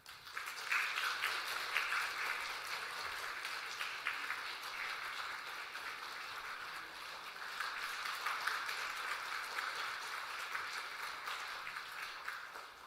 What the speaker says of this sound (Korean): 우리 전달할 때 큰 박수로 격려하겠습니다.